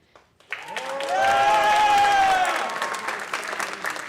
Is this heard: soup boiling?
no